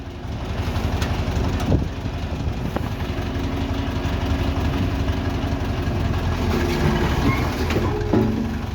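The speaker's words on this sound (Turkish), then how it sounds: "Traktörü ileri al." A tractor fitted with a stone-collecting bucket rolls forward, its engine running in a steady, close, rhythmic chug for several seconds, with a few sharp knocks and clanks.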